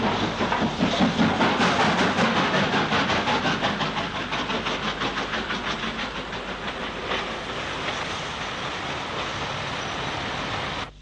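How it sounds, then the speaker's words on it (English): Steam locomotive 49407 shunts at Willenhall, giving a steady, fairly loud rolling rumble with rhythmic clicking from the wagons and a continuous hiss throughout. "49407 shunting at Willenhall."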